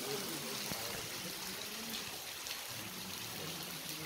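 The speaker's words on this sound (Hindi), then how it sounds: "पूरा पानी गिर रहा है यहाँ पे" Water falling at Pandav Falls waterfall near the Pandav Caves, a steady close rushing and splashing hiss that continues throughout, with faint voices in the background.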